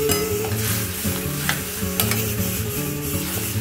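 Potatoes seasoned only with turmeric fry in a pan with a steady, close sizzle and crackle, while a utensil stirs and scrapes through them in repeated strokes.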